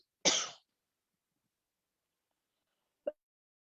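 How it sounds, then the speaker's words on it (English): A single sharp cough rings out close to the microphone in a quiet room during an online conference talk, followed about three seconds later by a much shorter, softer throat-clearing sound. "that was, little disturbance because I had cough"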